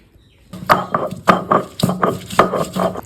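Leaves being ground on a shil-pata stone in a Bangladeshi village home, a series of close, sharp rhythmic strokes and scrapes, roughly six or seven in quick succession, with no voices.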